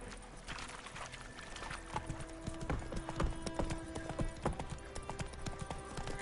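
Horse hooves clip-clopping in The Witcher video game, a steady rhythmic trot of close, crisp hoof strikes repeating over a soft game background with no talking.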